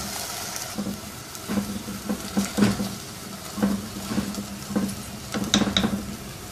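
Mutton frying in a handi with yogurt, green chillies and tomato: a steady low sizzle with repeated scraping stirs and occasional spoon clinks against the pot, close and fairly loud, no talking.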